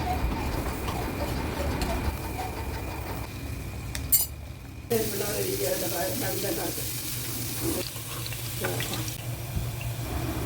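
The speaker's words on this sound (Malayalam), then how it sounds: "അപ്പം വെണ്ടയ്ക്ക ഒന്ന് നല്ലതായിട്ട് നമുക്ക് ഫ്രൈ ചെയ്തെടുക്കാം." Okra frying in sesame oil in a pan: a steady close sizzle throughout, briefly dipping before carrying on, with faint talking and background household sounds.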